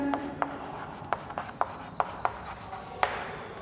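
Chalk writing on a classroom board during a Class 12 biology lesson: a series of sharp, irregularly spaced taps and short scratchy strokes, close and fairly clear over a quiet room with no talking.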